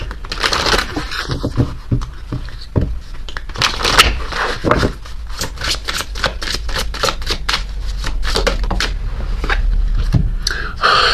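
Oracle cards being shuffled by hand in a steady run of crisp, papery riffles and flicks, close and fairly loud, with no talking over them.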